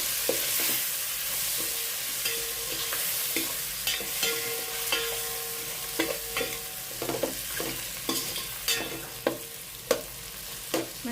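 Tomato pieces frying in a pan for paneer biryani, a constant soft sizzle under repeated rhythmic scraping and clicking strokes of a spoon stirring the pan.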